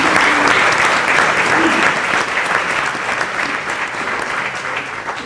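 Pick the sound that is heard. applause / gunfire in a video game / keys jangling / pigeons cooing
applause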